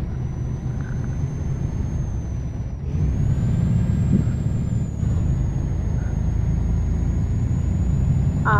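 Air brakes on a truck in Euro Truck Simulator 2, hauling milk in Britain, give a steady hiss with a high thin whine over a low engine rumble, loud and close and without talk.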